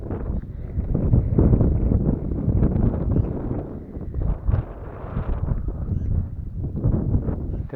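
Strong wind buffets the microphone outdoors on an August morning, a continuous low roaring rumble that swells and eases without a break.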